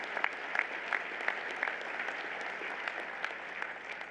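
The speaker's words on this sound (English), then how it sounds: "give yourselves a round of applause" Moderate applause from a crowd, steady clapping that carries on throughout without cheering or talk.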